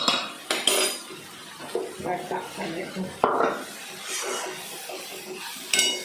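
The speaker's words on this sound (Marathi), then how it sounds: "भांडं धुवून घेतो" A pot is scrubbed and handled up close, with rough rubbing strokes and sharp metallic clanks of utensils and cookware.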